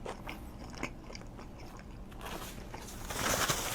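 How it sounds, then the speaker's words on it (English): Someone bites and chews hot peppers up close, with crisp crunching bites and wet chewing that grow louder toward the end, no talking. "Finish chewing first."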